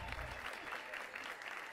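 Crowd in the space-agency game Mars Horizon applauding and cheering after a mission, a steady wash of clapping heard fairly quietly for under two seconds.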